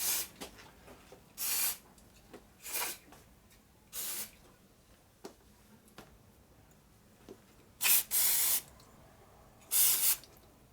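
Several short hissing bursts of an aerosol spray can, some brief and some longer, spaced out with quiet gaps between them.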